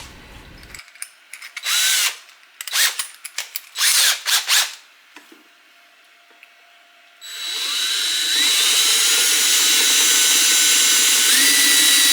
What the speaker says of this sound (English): Drill a 10mm hole.